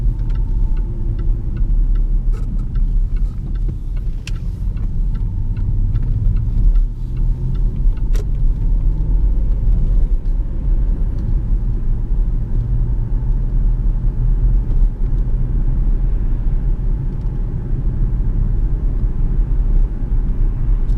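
A Jaguar XF 5.0 V8 S accelerating hard in sport mode, a steady, loud low engine rumble heard from inside the car with faint ticking over it and no talk.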